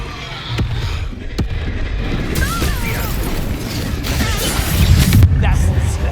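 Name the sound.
Confringo fire spell explosion in video game Hogwarts Legacy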